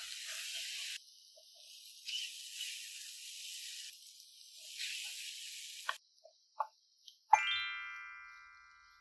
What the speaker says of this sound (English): Cook, stirring as needed until you hear very little to no sizzle when stirring.